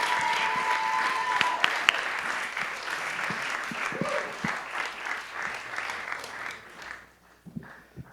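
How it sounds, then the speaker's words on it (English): An audience claps loudly and steadily, a dense wash of applause that fades out near the end, with a few voices mixed in. "Guys, clap it up for Jayson Green."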